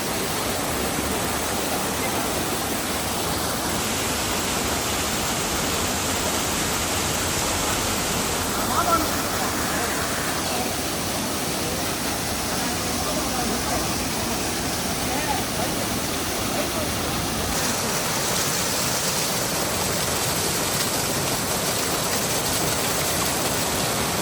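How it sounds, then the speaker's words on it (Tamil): A small hidden waterfall on the road near Courtallam rushes in a steady, loud broadband wash throughout, with faint voices occasionally audible beneath the flow. "இந்த குட்டி அருவியில் வந்து குளிச்சிட்டோம்னா"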